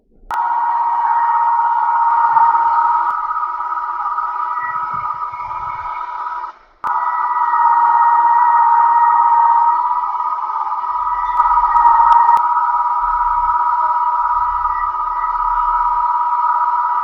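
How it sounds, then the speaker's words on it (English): A pillar drill in a home workshop runs steadily through metal with a sustained whining hum, briefly cutting out and restarting, with faint low knocks beneath. "quick transfer to my pillar drill, and I've picked up that center, so hopefully we can drill that through now"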